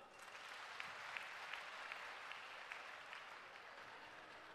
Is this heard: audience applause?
yes